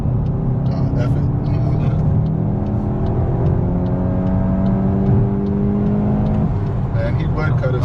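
A 2024 Toyota GR Corolla Circuit or 2024 VW GTI 380 at stock ride height pulls hard, its engine note climbing steadily in a sustained rising drone inside the cabin, with a steady road rumble and brief talk mixed underneath.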